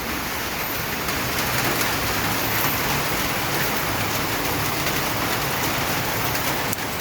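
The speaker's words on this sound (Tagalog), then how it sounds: "Pero umuulan pa rin dito sa amin." Steady, heavy rain pours down onto a surface, a dense continuous hiss with no pauses.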